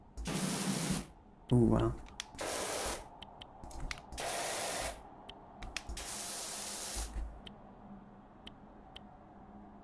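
A pressure washer sprays in the video game Powerwash Simulator, coming as several loud hissing bursts of a second or two each, separated by gaps, with a person talking softly between them.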